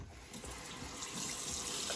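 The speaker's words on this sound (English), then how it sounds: "A little bit of a warm water rinse." Warm tap water runs steadily into a sink to rinse off soap, a soft continuous splashing hiss heard close and alone, fairly faint, without any talking.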